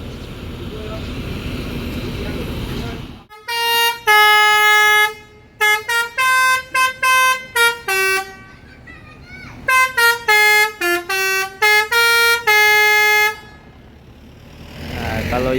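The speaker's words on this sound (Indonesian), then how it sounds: "ini unitnya memantau karena punya telolet yang bermacam-macam ya bunyinya." A PO NPM executive plus bus sounding its telolet horn in varied melodic tunes. Loud, close musical honks come in quick bursts and longer phrases after a stretch of rumbling background noise.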